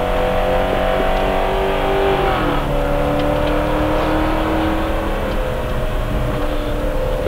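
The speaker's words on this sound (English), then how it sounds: "ZR1 on the track for the first time. We're gonna get these tires hot" Chevrolet Corvette ZR1 race car running on track at Road Atlanta, its steady loud engine drone with a shifting pitch as it accelerates, continuous and close throughout.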